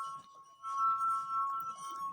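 A wet finger circling the rim of a water-filled glass cup draws a steady, pure ringing tone that swells slightly and holds throughout, faint and close.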